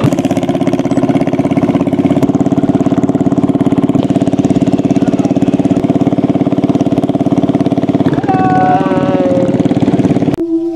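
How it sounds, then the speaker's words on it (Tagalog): A loud motorboat engine drones steadily at close range while towing a boat along the Bumbungan River at Pagsanjan, Philippines, a constant throbbing hum that shifts pitch near the end as it revs. "mula dito, hihilahin tayo ng motorboat"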